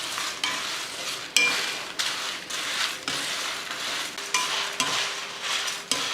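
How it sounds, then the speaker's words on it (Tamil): Coriander seeds and dried red chilies dry roasting in a hot kadai without oil, a steady rustling crackle with repeated stirring scrapes throughout, close and moderately loud. "ஒரு கடாய் வச்சுட்டு நல்லா சூடானதுமே மல்லி, வரமிளகாய் 2 ஒன்றா போட்டு வறுத்துடலாம்."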